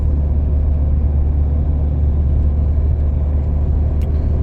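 A 2012 Ford Fiesta 1.4 TDCi diesel (70 PS) cruising in fourth gear at around 80 km/h, giving a steady, close low-pitched engine and road rumble without pauses or speech.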